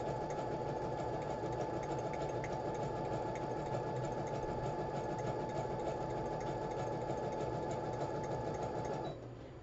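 A Brother sewing machine runs at a steady, even whir for several seconds, then cuts off abruptly just before the end.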